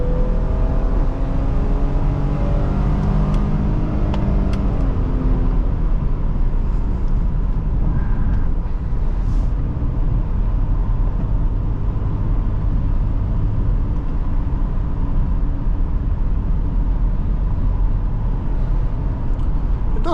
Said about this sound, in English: It needs to high rev to move this car